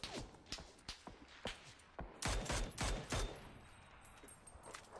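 Gunfire in a video game crackles in quick bursts of close shots. One loud rapid volley comes in the middle, with sparser shots before and after.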